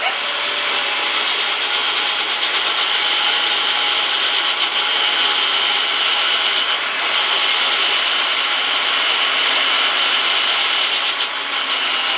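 A power sander with an abrasive mesh disc grinds steadily against figured wood, a continuous abrasive whir with small shifts in pressure and no talking.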